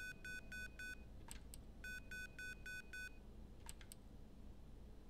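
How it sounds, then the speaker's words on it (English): An electronic device in the video game Yuppie Psycho beeps in quick rhythmic bursts of four or five tones, twice, separated by short clicks, fairly quiet and with no talking. "Well, it gives me 2 beeps."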